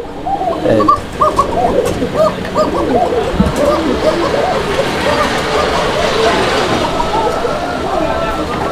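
A pair of fancy pigeons, male and female, coo repeatedly in soft rhythmic burbles, close and continuous, with other birds calling around them and people talking in the background.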